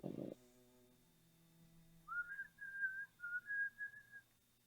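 A person whistles a short tune of several sustained, slightly wavering notes after a brief thump, fairly clear against a quiet background.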